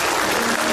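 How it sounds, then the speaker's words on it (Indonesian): An audience at a live comedy show claps for Kimau in a short, dense burst of applause that stays at an even level throughout. "tepuk tangan untuk Kimau"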